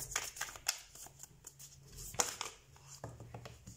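A deck of tarot cards is shuffled by hand at close range, giving quick riffling flutters and sharp card snaps in uneven bursts across a few seconds.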